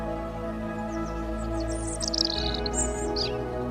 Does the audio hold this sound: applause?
no